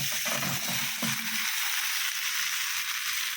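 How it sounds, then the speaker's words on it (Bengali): Jujubes are stirred into hot oil for pickle, producing a dense, even hiss. A brief rustling stir opens it, then it settles into a steady frying sound. "কুলটা আস্তে করে দিয়ে ভালো করে নেড়ে তোমাদেরকে দেখাচ্ছি"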